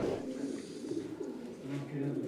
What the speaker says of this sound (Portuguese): nós vamos soltar os pombos do Chuí